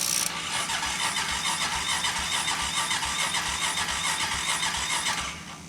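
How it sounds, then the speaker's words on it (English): A 2007 Honda four-wheeler ATV with a dead battery cranks continuously, its starter whining and grinding in a steady rhythmic churn up close, loud and unbroken without the engine catching. "We're going to see if this thing will crank."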